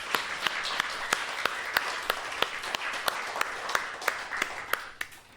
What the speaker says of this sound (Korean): 우리 하나님께 영광 박수 올려드리겠습니다